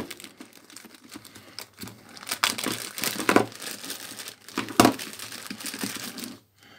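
A plastic parcel bag holding retro mobile phones is crinkled and opened, with irregular close crackling and rustling bursts, a few louder crunches, then a short silence at the end.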